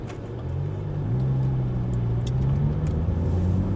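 Audi R8 pulling up on a race track, a deep engine rumble close by that swells slightly as it rolls forward, steady and without speech.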